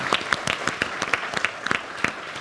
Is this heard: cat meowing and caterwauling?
no